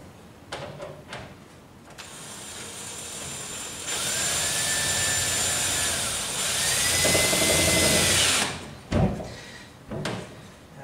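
A power drill drives a screw into a wooden arcade cabinet with a steady whirring burst of several seconds, followed by clatter and brief knocks.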